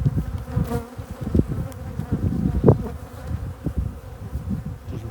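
Dense buzzing of many bees swarming close by, a steady droning hum with individual insects zipping past, one passing loudly near the middle.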